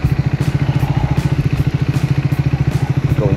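Motorbike ridden slowly over a rocky dirt track in remote northern Thailand, its engine thumping in a steady, close, loud pulse with clattering and rattling from the rough ground throughout.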